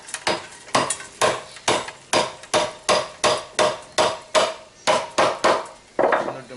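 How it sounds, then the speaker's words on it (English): Steady, evenly spaced sharp knocks of a chisel being struck into the trunk of a young tamarind bonsai, about fifteen blows in a regular rhythm, close and crisp, with no talking. "So we're going to work with chisels now."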